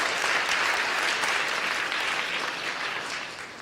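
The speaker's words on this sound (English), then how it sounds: "please give them another round of applause" Steady, dense applause from an audience after a classical Indian dance debut performance, continuous and moderately distant, fading slightly toward the end.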